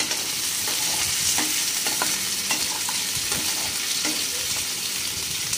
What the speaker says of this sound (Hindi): आलू को भी हमें तलना है, पका लेना है, अच्छे से मिक्स कर लेंगे।